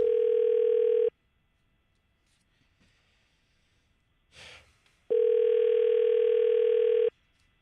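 A telephone call ringing out on the line: two long, steady electronic ring tones, each lasting about one to two seconds, separated by a few seconds of near silence with a faint click between.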